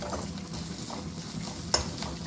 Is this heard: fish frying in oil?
yes